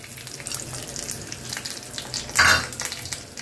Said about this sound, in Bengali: তো ঘি গরম করে নিয়েছি, এবারে আমি প্রথমে এই দেখো একটু কাজু আর কিশমিশ দিয়ে দিচ্ছি